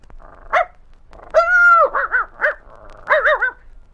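A dog barks several times at close range, with a longer drawn-out yelp in the middle, between short pauses of quiet.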